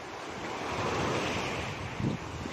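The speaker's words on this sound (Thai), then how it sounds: "อุ้ยอุ้ยอุ้ยอุ้ยอุ้ยอุ้ยคลื่นเต็มเลย" Surf rolls continuously onto a beach at Koh Phangan, a dense near wash of breaking waves mixed with gusty wind noise, a brief thump near the end.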